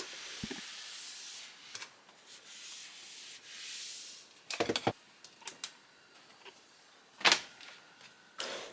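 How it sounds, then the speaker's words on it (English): A damp duster sponge wipes bedroom surfaces in soft, close rubbing strokes, broken by a few sharper scuffs and bumps, with no voices. "you just make the damp duster sponge nice and wet and you just go over your surfaces"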